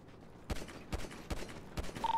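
Gunfire in GTA V roleplay during a warehouse roof fight, five loud, evenly spaced shots about half a second apart over a low background hiss.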